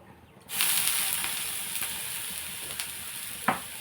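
Chitti pesarattu, small Kakinada-style mung bean dosas, sizzling on a hot pan: a steady bright hiss starts abruptly, holds loud and even, and is broken by a few faint clicks.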